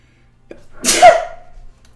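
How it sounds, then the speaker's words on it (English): A single loud sneeze bursts out close by after a short inhaled catch, then trails off into quiet. "Oh, I love having a good sneeze."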